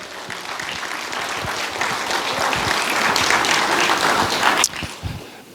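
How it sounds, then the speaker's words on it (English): Audience applause at a sheriff's citizens' academy graduation ceremony, a dense sustained clapping from a roomful of people that builds slightly and then thins out near the end. "let's give everybody a round of applause"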